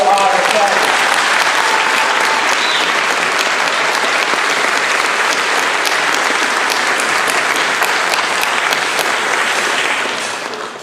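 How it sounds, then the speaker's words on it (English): A graduation audience applauds the parents, a loud, sustained roar of many clapping hands filling a large hall, with voices mixed in and a gradual fade near the end. "let's give them a big round of applause to our parents"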